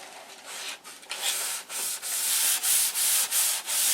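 Sandpaper rubs excess primer off a P47 model airplane in repeated close back-and-forth strokes, each scratchy pass separated by short breaks in an even rhythm.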